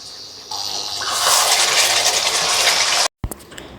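About a cup of kewra water pours into simmering mutton rezala with a gushing splash that starts suddenly, swells and then cuts off, followed by a few faint clinks.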